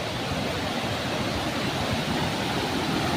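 Floodwater surges after heavy monsoon rain, a steady, loud, unbroken roar of rushing water with no voices over it.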